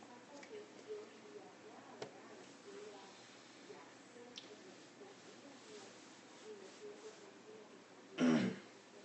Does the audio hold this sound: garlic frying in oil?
no